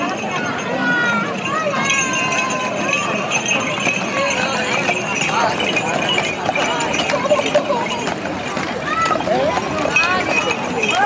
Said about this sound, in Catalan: A darrere porten un carro pagès estorat amb un poni